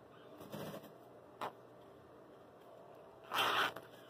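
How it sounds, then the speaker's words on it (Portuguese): Zipper pulls slide along a zipper for a flap bag: several short, close, quiet zipping rasps, the last one longer and louder, with no speech. "vou colocar duas cabeças de zíper, uma vai e uma vem"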